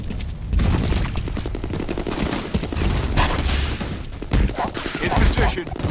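Grenade blast and rapid gunfire in the shooter game FEAR Combat, a dense continuous fusillade of shots and booms close up, with voices calling out over the battle.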